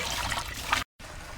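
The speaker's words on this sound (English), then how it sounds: "I'm going to fill this with water now." Water running into a repaired pump discharge pipe, a steady trickling and gushing flow that stops briefly, then resumes more softly.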